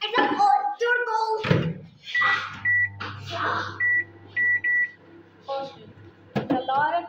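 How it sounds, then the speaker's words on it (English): A microwave oven hums steadily and gives several short, clear beeps while baking a cake at home, with people talking nearby before and after. "We have to bake it in a microwave."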